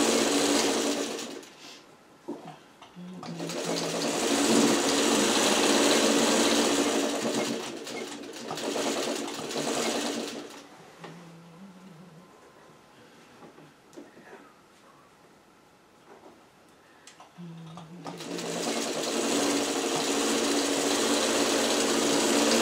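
A sewing machine stitches fabric strips onto a quilt block in two long steady runs, loud and continuous, separated by a quieter pause with faint handling sounds.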